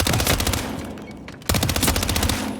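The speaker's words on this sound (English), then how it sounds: "We have gunshot fire." Rapid automatic gunfire in the stealth action game Hitman 3, two loud close bursts of fast repeated shots separated by a brief lull.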